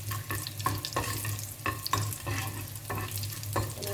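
Crushed garlic tempers in hot oil for sambar, with a soft crackling sizzle punctuated by regular clacks and scrapes of a spoon against the pan, plus a low steady hum.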